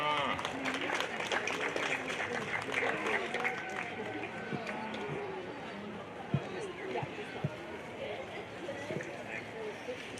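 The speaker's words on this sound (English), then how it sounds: "Give her a big, big round of applause." Spectators applaud at a junior livestock show, a steady wash of clapping and crowd noise that lasts throughout while an announcer talks over it.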